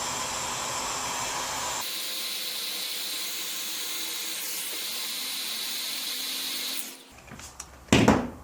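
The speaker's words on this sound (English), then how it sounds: "I've just used my heat gun here. I'm going to heat up the shrink tubing." A heat gun blows a steady, loud hiss of hot air to shrink tubing over wiring that links a newer outboard controller to an older engine, then cuts off near the end, followed by brief handling clatter.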